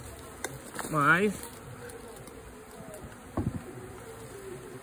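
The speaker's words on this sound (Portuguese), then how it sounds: "agora as abelhas daqui a pouco tá tudo aqui junto da caixa também" Honeybees buzz around a heavy bait hive box full of honey outdoors, a steady low hum with one louder pass of a bee close by and a brief bump later, while a voice speaks a short word.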